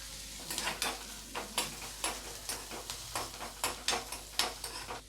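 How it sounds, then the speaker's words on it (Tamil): Curry leaves fry in a pan for a quail egg roast, giving a soft sizzle broken by a run of rhythmic scraping strokes as the spatula stirs, fairly quiet and close, with no voices. "இது நல்லா ஃப்ரை ஆகட்டும்"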